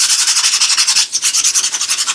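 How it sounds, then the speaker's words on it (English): Sandpaper rubbing over gesso-primed painting canvas, a steady run of quick, close scratchy strokes with a brief pause midway, no voices. "Unless I start sanding all the way down where I'm starting to get the canvas itself coming up"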